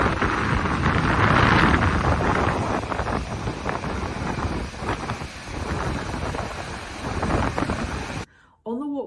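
Strong, cold wind near a waterfall in Iceland buffets the microphone in a loud, continuous roar with gusting surges, then cuts off abruptly near the end as a brief voice is heard.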